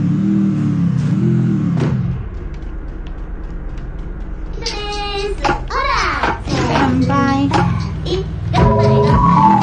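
A video game motorcycle played on an emulator revs and whines in rising and falling sweeps, mixed with game effects and chatter after a quieter opening stretch.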